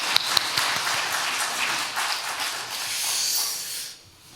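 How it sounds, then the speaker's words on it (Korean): Church congregation claps together during a Sunday worship service, a hissy wash of many hands applauding for a few seconds before cutting off abruptly. "하나님께 영광 박수 올려드리겠습니다."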